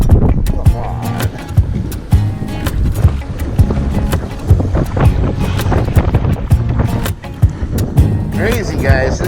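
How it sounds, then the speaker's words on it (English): Strong wind of around 30 to 50 mph roars across the microphone on an open lake while trolling for crappie from a boat, loud continuous buffeting with rushing gusts, and someone talks and shouts over it. "This is too much. Too much wind, man."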